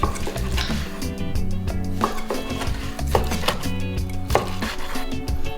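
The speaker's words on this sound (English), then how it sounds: "so we're gonna slice this steak up now" Knife slicing a rested, medium-rare steak on a board, repeated close cutting strokes with soft thuds over a steady background hum, no speech.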